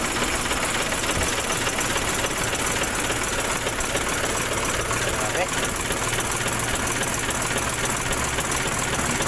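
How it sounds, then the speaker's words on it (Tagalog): Isuzu 10PD1 diesel engine idling with a steady, rough mechanical drone and knock while oil blows out of the dipstick tube, loud and continuous throughout. "Bumubulwak ang langis sa kanyang dipstick. Isuzu 10PD1-1 engine."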